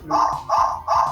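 Electronic toy robot dog from the 2000s, switched on and giving three evenly spaced synthetic barks, each about a third of a second long, loud and close with no talking.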